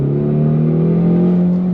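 2026 Ford Mustang turbo coupe accelerating hard under throttle, a loud close engine drone climbing steadily in pitch, with no talk over it.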